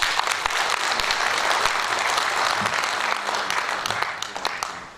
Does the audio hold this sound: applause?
yes